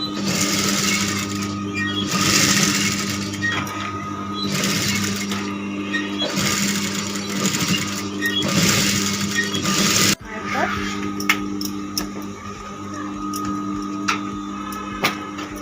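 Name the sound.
sewing machine stitching a blouse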